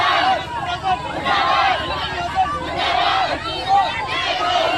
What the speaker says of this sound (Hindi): देख रहे हैं अब नारेबाजी और पुलिस प्रशासन मुर्दाबाद